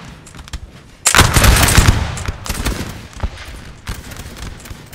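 A loud musket volley crashes out at once in a Napoleon Total War recreation of the 1808 Battle of Bailén, followed by scattered crackling shots that ripple on and taper off, with a few further distant pops.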